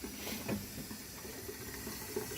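Water from a water heater drains through a hose into a 3-inch drain pipe during winterizing of a water system, giving a steady faint rushing trickle with small splashy bursts.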